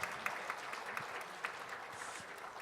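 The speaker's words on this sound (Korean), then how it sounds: "다시 한번 뜨거운 박수 부탁드립니다" Applause from a wedding audience, a steady wash of many hands clapping with a few sharper claps standing out, fairly faint and distant in a reverberant hall.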